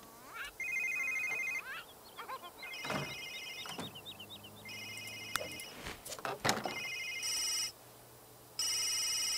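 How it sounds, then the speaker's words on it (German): An electronic telephone in The Sims 3 rings in repeated bursts, mixed with other game sounds such as a door sliding. "Telefon."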